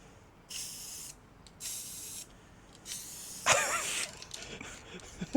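Aerosol can of primer spraying in three separate steady hissing bursts of about half a second each, followed by a louder rattling, sputtering spray near the end, close and clear with no talk.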